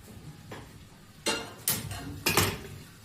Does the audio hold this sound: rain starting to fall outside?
no